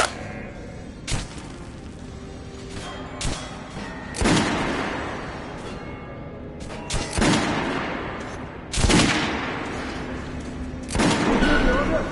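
Gunfire in the post-apocalyptic shooter Metro Last Light: sharp, loud shots and booming blasts at irregular intervals over a rumbling battle backdrop, with shouted voices.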